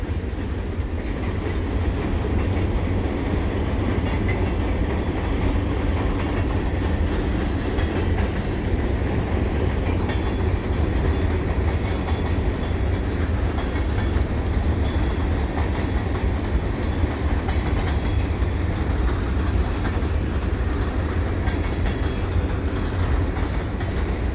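A freight train of covered hoppers and boxcars rolls past at close range, a loud, unbroken rumble and rattle of wagons with steady wheel clatter throughout.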